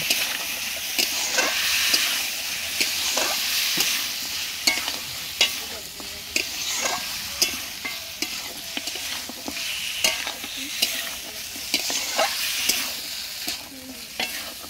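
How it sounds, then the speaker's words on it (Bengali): Masala with chilli powder sautéed in a pan: a steady sizzle of frying spices with repeated scraping strokes of a spatula, close and continuous throughout, no voices. "তো এটা কষাতে কষাতে হয়ে যাক কিছু খানি।"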